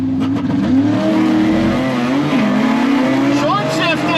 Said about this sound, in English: This will be the first time I'm using this 2200 RPM fuel cut launch.